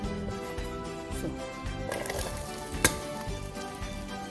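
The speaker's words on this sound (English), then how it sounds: "Just want the pot to be a bit hot, and then I'm going to add the onions to it." Onions frying in a hot pot while preparing egusi, a steady close sizzle with a busy mid-range texture and one sharp clack near the middle.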